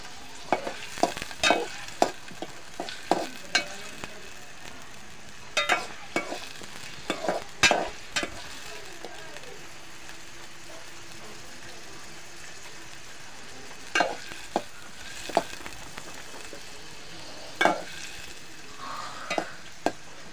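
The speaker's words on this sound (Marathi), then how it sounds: "करपून द्यायचं आहे, म्हणजे जरा हे झालं पाहिजे, जरा तांबडसर करायची." Village chicken sizzling as it roasts in a pan, with steady frying hiss under repeated sharp scrapes and clatters of stirring, coming in irregular bursts; no talk.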